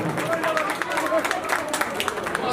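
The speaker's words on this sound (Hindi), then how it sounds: "जोरदार तालियां।" Applause from an audience at a staged play (natika) in Ram Nagar, a dense steady patter of many hands filling the room, with voices talking over it.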